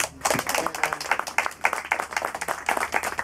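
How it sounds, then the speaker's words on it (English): A small audience at an urban organic farming cooperative applauds, many quick overlapping claps in a lively, fairly close burst that keeps steady energy throughout. "I want to ask for a big applause to Miguel Salcines."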